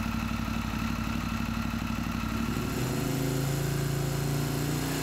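A 1996 Moto Guzzi Centauro motorcycle engine runs steadily, warming up at a low, even idle with a continuous throb and mechanical clatter, close and alone with no talk.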